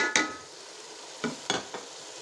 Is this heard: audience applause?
no